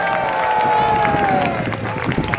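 An army at a battle reenactment of the 1264 Battle of Lewes cheers, a broad crowd roar with shouting and some clapping sustained throughout, a voice calling out over it.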